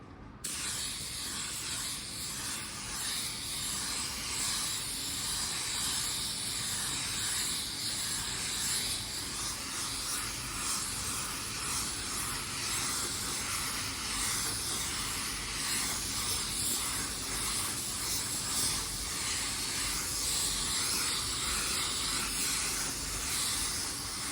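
Spray gun laying a second coat of automotive clearcoat to blend into old clear, a steady loud hissing spray that runs continuously for the whole stretch with no talking.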